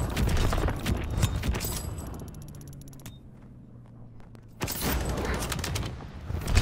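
Heavy bursts of gunfire from a WWII setting, rapid rattling volleys up front that fade into a near-quiet lull with a faint mechanical hum, then a fresh loud burst returns.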